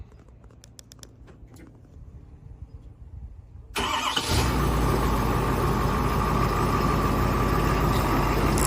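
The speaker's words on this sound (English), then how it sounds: "Cold start. It was 28 degrees last night." A 6.7 diesel truck engine cold-starts on a 28-degree morning: a few faint clicks in near silence, then a sudden loud crank catches into a steady, rumbling idle that carries on to the end.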